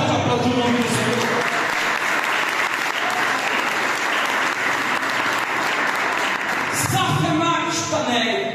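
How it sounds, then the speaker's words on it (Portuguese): A church congregation at an evening service breaks into sustained, loud applause that fills the room evenly, with a few voices and a tonal sound rising over the clapping near the end. "Será que você pode aplaudir o nome do Senhor?"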